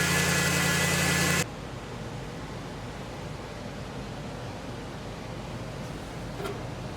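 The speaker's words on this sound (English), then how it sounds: "get in it and see if it'll do a burnout" A Hemi engine from a Durango chassis, fitted in a 1954 International fat-fender pickup, roars loud and steady while revving for a burnout, then cuts off abruptly after about a second and a half, leaving only a low background rumble.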